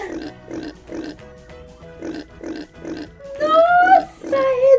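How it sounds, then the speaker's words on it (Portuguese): A pig oinks in a rhythmic series of close, loud grunts, followed by higher squeals. "Nossa, é do porco!"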